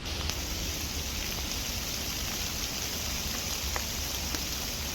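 Rain falls steadily outside a leaf-covered survival shelter in the woods, a soft, even hiss of drops with occasional closer patters, fairly faint and with no voices.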